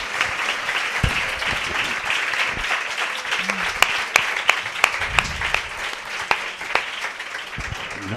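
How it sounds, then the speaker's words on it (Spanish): A book presentation audience claps for a guest, a steady moderate applause with a few sharp individual claps standing out near the end, and low voices murmuring underneath. "Un aplauso para Dori."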